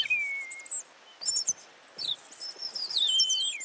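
Professional human bird singers whistle imitations of birdsong: high chirps, sliding tweets and trills in several close bursts with short pauses, and no talking.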